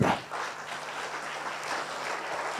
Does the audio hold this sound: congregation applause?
yes